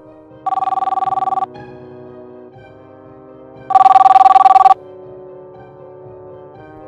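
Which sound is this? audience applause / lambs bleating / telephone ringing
telephone ringing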